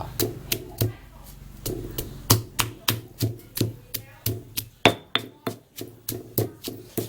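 A pestle pounds shrimp-paste chili dip (jaew kapi) in a mortar, about twenty close, loud thuds landing in a steady, brisk rhythm with only a short pause midway.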